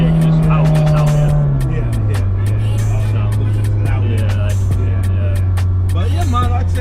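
A rebuilt Honda S2000 accelerates and shifts up a gear, its engine note dropping abruptly then holding a lower steady drone, loud and close, with a voice over it.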